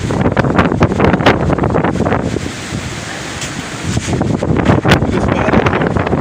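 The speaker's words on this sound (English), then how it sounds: "That's how bad the wind is." Strong wind buffets the microphone outdoors in very windy weather, giving continuous loud rumbling with gusty swells and rustling throughout.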